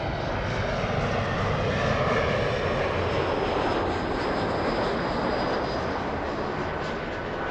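A fixed-wing airliner passes at Los Angeles International Airport, its engines a loud, broad roar that holds steady throughout with no talking.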